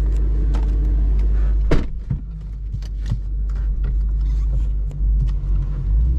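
A Mustang fitted with Kooks headers and a Corsa Xtreme exhaust rumbles deeply at close range. A low, steady drone carries through the whole stretch, with occasional clicks and creaks over it.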